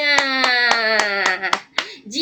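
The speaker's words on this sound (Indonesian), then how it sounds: "tepuk tangan untuk Dava semuanya" Classroom applause for a student: a few sharp, evenly spaced hand claps ring out while a child's high, harmonic voice carries on loudly over them, and the clapping trails off near the end.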